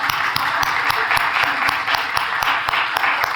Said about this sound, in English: Let's clap for William